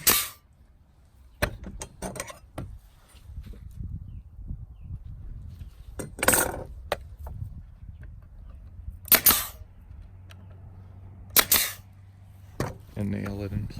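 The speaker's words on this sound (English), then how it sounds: "I grab my brad nailer." A brad nailer fires several sharp, close snaps at irregular intervals while nailing wooden molding in place on an antique-style door, with quiet workshop handling noises between shots.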